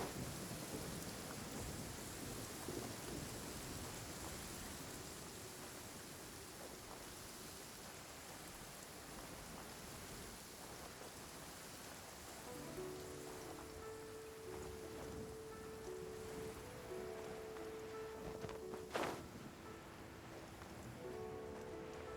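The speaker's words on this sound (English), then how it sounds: "Taking a stroll in the middle of a downpour certainly rouses the spirit." Heavy downpour and rumbling thunder in the video game Genshin Impact, a dense continuous wash of rain with low rolling thunder, joined later by steady tonal game music and a sharp crack near the end.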